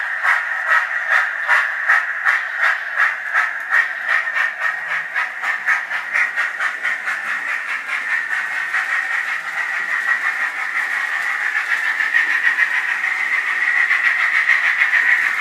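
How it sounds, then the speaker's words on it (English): A small model locomotive chuffing along the track in a fast rhythmic pulse, with a steady whirring hiss that smooths out as it keeps running. "look how the train moves"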